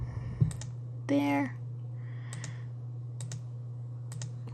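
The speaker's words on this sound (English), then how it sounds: "So I'm going to click there" Mouse clicks at a computer while editing paths with the Illustrator knife and live paint bucket tools, a few short sharp taps spaced out over a steady low hum, with a brief spoken word near the start.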